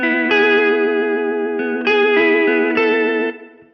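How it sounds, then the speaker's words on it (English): A Keeley Verb O' Trem guitar pedal at its max setting gives sustained guitar chords with vibrato wobble followed by reverb, loud and alone, struck three times and trailing off at the end. "So that max setting is a vibrato followed by the reverb."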